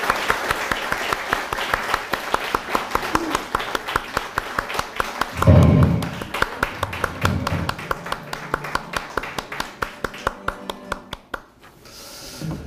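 New Year church service congregation claps in a steady rhythmic beat for about ten seconds, crisp and close, with a brief low rumble midway before the clapping trails off into quiet.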